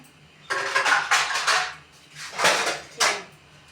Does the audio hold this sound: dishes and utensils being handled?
yes